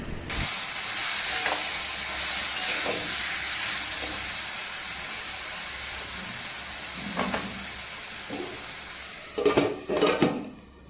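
Drumstick and potato curry with spices being stirred in a pan, a steady hiss of sizzling under scattered scraping strokes, with a few sharper clanks of the spoon near the end.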